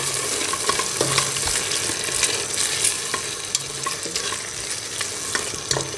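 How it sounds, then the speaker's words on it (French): Spinach cooks in a pan over medium heat with a dense, steady sizzle and frequent stirring scrapes and taps, close and loud throughout, without speech. "je laisse mes épinards réduire en fait et cuire à feu moyen jusqu'à réduction complète de la sauce"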